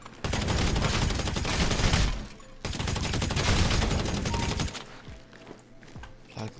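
Rapid automatic gunfire from a GTA V Online heist on Cayo Perico, two long dense bursts of loud crackling shots with a short break between, then scattered single reports fading out.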